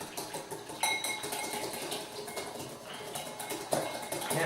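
Ingredients for a grilled tofu sandwich, seasoned with salt, pepper and garlic, are stirred in a bowl, with faint, close scraping and clinks of a utensil against the dish.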